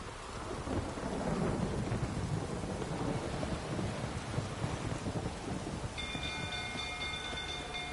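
Rain and rolling thunder in the video game The Witcher, a continuous loud wash of downpour with deep rumbling swelling through the first half, then a faint tonal hum near the end.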